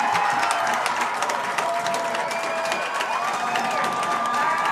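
Fans in the stands at a high school football game cheer and clap in a loud, continuous roar, with whistles and shouts rising over the crowd.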